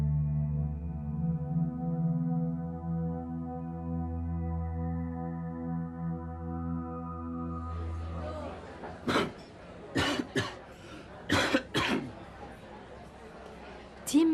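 Person sick with flu coughing: a sustained low tonal hum fills the first half, then several sharp, separate coughs follow in quick succession near the end.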